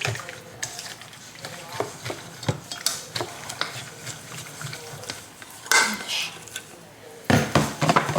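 A spoon stirs a mixture with vanilla paste in a bowl, giving repeated scraping and clinking strokes against the side. The sound is close and irregular, with a brief louder clatter near the end and no talking.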